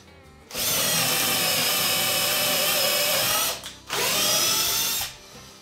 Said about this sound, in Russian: Это тоже сверло по дереву.